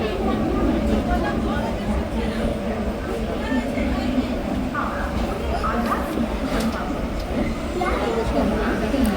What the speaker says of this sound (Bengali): ট্রেন ছাড়িয়ে যাচ্ছে খড়গপুর স্টেশনে